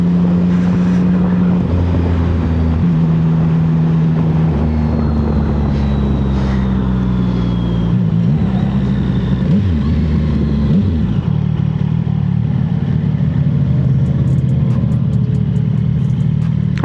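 A CFMoto 675SS motorcycle engine runs steadily in first gear, heard up close from the rider's position with a constant drone and several small rises and dips in pitch, with no talk.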